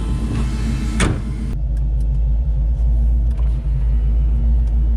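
A worn Ford Mustang project car drives along with a loud, steady low engine and road rumble from inside the cabin, a brief clunk near the start, and no one speaking.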